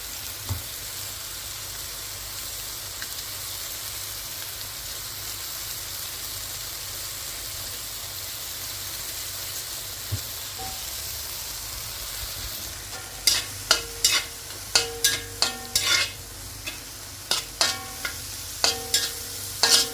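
Broccoli frying in a pan for chicken curry gives a steady, soft sizzle, then a run of sharp, irregular clatters as it is stirred in the second half.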